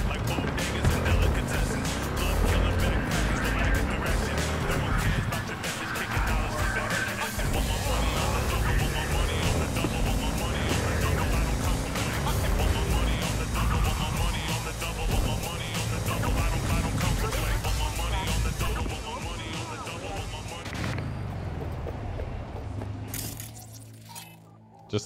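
Driving a car in Cyberpunk 2077 produces a loud, steady engine and road rumble under game music and scattered clanks, continuing for about twenty seconds before cutting off sharply near the end.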